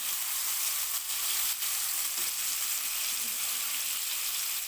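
Onion frying lightly in a pan, a steady even hiss of sizzling oil at moderate volume, continuous and close with no talking.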